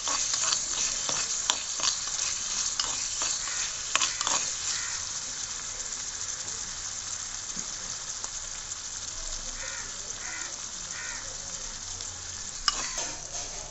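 Fish curry masala with turmeric frying in a small pot, a continuous close sizzle broken by a spoon clacking and scraping in bursts, loudest near the start, with no speech.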